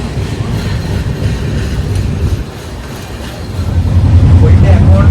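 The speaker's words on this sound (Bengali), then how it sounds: "এখন আমরা সাসারাম থেকে বেরোচ্ছি, 27 মিনিট লেটে কিন্তু ট্রেন চলছে" The Kolkata–Agra Cantt Express pulls out of Sasaram Junction at night, giving a loud steady rumble of wheels and carriage rattle that swells toward the end.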